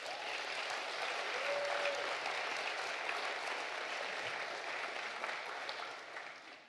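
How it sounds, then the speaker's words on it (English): An audience applauds Save the Rhino at the Douglas Adams Memorial Lecture, steady massed clapping from a large crowd that holds evenly and then tapers near the end, heard alone without speech. "Another round of applause, please, for Save the Rhino."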